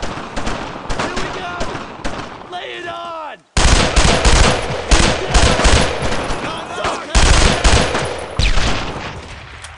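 Rapid bursts of machine gun fire in the World War II shooter Brothers in Arms, loud and close, repeating in dense volleys with shouted voices heard briefly between them.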